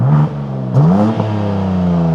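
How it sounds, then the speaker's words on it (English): A BMW M4 CSL with a full titanium exhaust and a straight-six engine revs up loudly and close by, rising in pitch through a few quick throttle blips before holding a high, steady tone. "You have a full titanium exhaust,"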